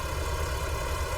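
A tractor engine idling at a farm show, a steady low rumbling drone with even vibration, close and continuous without any other sounds over it.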